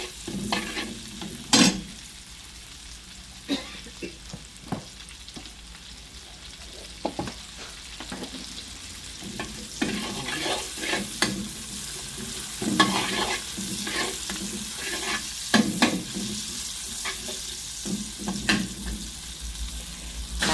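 Garlic and chilies stir-fry in a pan, with a close sizzling hiss punctuated by irregular scrapes and clatters of a spatula tossing the mixture, plus a faint watery trickle in the background and no speech.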